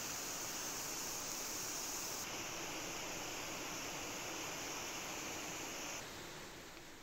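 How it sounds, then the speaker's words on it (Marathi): Bandh Tivre waterfall pours in a steady, broad rushing wash, faint and distant, continuous without pause and fading slightly at the end. "असं खास वैशिष्ट्य असलेला बांध तिवरेचा धबधबा पर्यटकांना आता खुडवू लागलाय"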